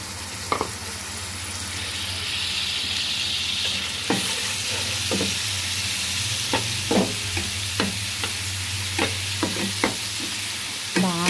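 Onions and chopped tomatoes fry in a pan for a fish fry, sizzling steadily throughout with repeated sharp scrapes and knocks of a spoon stirring the mixture, loud and close with no talking.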